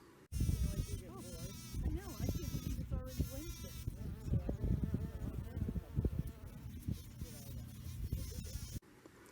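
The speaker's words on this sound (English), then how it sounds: "I took a video of some bees, a bumblebee, on some beach roses" Bumblebee on beach roses at a seaside spot: a steady close buzzing drones on continuously with wavering pitch, alongside outdoor background noise.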